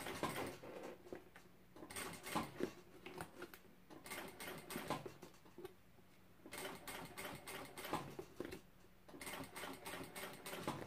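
A sewing machine stitching a textured fabric bag runs in several bursts of rapid mechanical clatter separated by short pauses, close by and fairly quiet, with no voices.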